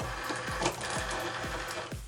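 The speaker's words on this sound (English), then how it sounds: "I'm just going to feed this into the Cricut machine." A Cricut cutting machine feeding paper, with a steady mechanical whir and a regular ticking pulse about twice per second, close and continuous for a couple of seconds.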